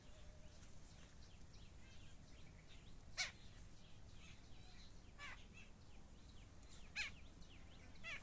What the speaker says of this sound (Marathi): ते फक्त शांतता आणि पक्ष्यांचे आवाज